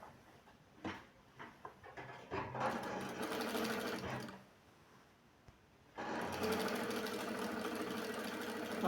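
A sewing machine runs in bursts while stitching a 4 cm fabric strip as a border around a patchwork rug: brief stops and starts early on, then sustained close, loud whirring runs broken by a short pause.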